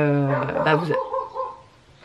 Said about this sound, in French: C'est pas Niki qui aboie, c'est le chiot du voisin.